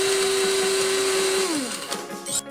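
A loud whirring blender-like mixing sound in the kids' iPad game Kitty Birthday Party Time runs steadily, then its pitch drops as it winds down, ending with a couple of small clicks.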